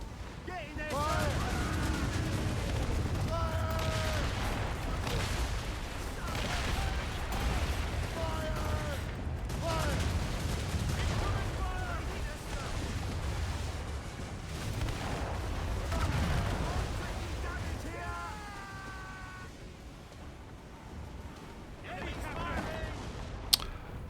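Ship cannons boom in Assassin's Creed Rogue during a naval battle, heavy repeated blasts rolling under a dense wash of combat noise, with voices shouting orders throughout.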